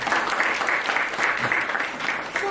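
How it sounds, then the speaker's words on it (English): Conference audience applauding an organiser after an inauguration session, dense steady clapping throughout at moderate loudness with a little background voice. "So a big applause for him"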